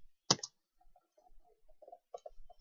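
Keys clatter on a computer keyboard, a sharp cluster of clicks followed by a short run of soft, quiet taps, close and isolated with no talking.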